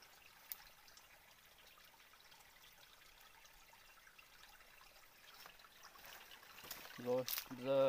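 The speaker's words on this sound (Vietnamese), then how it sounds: "giờ đã đến khe suối rồi" A mountain stream flows and trickles steadily at low level in a forested hillside setting, a soft continuous wash of water that slowly grows louder, with a brief voice near the end.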